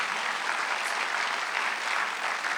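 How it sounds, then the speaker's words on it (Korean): A church congregation at a Sunday worship service claps hard and fast together, a thick, continuous wash of hand claps close and loud throughout with no voices on top. "박수 세게 치세요."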